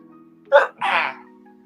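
A person on a podcast livestream sneezes once in two quick bursts, a sharp intake followed by a longer blast, over a low steady electrical hum with no talking.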